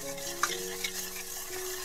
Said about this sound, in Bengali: এবার আমি দিয়ে দেবো চিনি, দিয়ে এটা আমার ভালোভাবে এর সাথে মিশিয়ে নিতে হবে, যাতে চিনিটা গুলে যায় ভালোভাবে দুধের সাথে